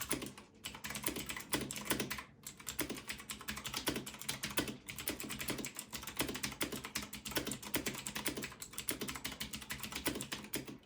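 Fast, steady typing on a Gamdias Hermes E2 mechanical keyboard, crisp clacking keystrokes in a continuous rapid patter, close and clear with no voices.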